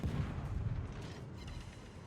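Naval gunfire from warships in a World of Warships battle aimed at the enemy destroyer Zhao: a sustained low rumbling barrage of booms, steady and fairly loud throughout, with no distinct separate shots.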